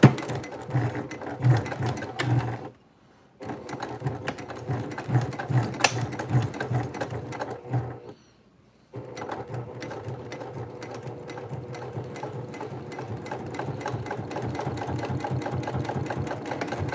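A Brother PQ1500SL sewing machine stitches a bag in fast, steady mechanical runs, stopping twice for a second or so before whirring on continuously, close and fairly loud.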